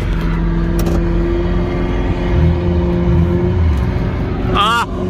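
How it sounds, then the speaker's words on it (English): A 6.0 diesel truck with a blown differential sits revving hard during a burnout, a loud, sustained engine roar close by with shouting voices over it and a sharp whine near the end. "Doing burnouts, Pearl."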